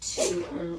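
A single sharp sneeze up close, a hissy burst that breaks into a short voiced tail.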